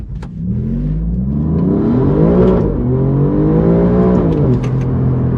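An Alfa Romeo Giulia GTA M launches hard from a standstill in first gear, its engine roaring loud and close as revs climb in a steady sweep, dip briefly at a shift, then build again with no talking.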